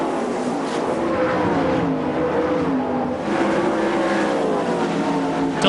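Winged World of Outlaws sprint cars race at the Knoxville Nationals dirt track, several engines screaming and rising and falling in pitch as they lap, a dense loud roar heard at a distance.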